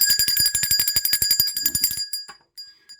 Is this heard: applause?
no